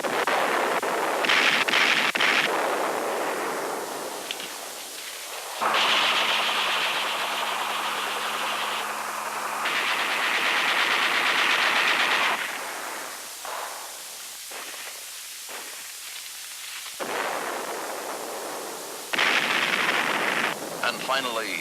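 Naval guns and machine guns fire in 1960s U.S. military footage: loud, booming bursts and rattling volleys separated by short gaps, heavy with noise and static.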